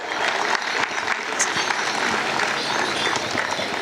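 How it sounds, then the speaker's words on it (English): Audience clapping hard at a literature festival held by an army wives' welfare association, dense continuous applause with a few sharper individual claps, loud and steady throughout. "I can see officers clapping very hard."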